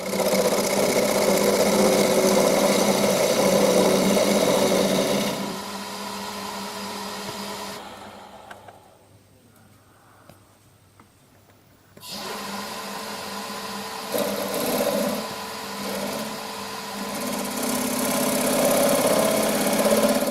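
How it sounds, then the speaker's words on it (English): A wood lathe runs as a homemade 12mm carbide cutter hollowing tool works wood, a loud steady whirring hum that drops away to quiet for a few seconds, then spins back up. "That tool there is a small hollowing tool I made. It's a 12mm carbide cutter."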